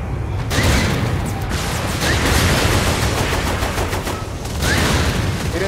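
Gunfire from the video game Saints Row IV crackles in dense, rapid bursts, with brief gaps between volleys. It stays loud and close throughout, with mechanical clanks under the shooting and no talking.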